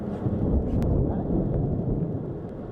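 A deep, sustained rumble of thunder from a plains thunderstorm with strong gusty winds rolls on for a few seconds, low and heavy, with a faint hiss of wind or rain.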